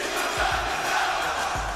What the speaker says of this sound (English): crowds finally started to wholeheartedly sing along with the chorus